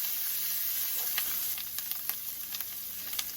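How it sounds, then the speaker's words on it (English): Sausage cooking in a skillet gives a steady, close, loud sizzle with scattered sharp crackles and pops throughout. "now I have my sausage cooking"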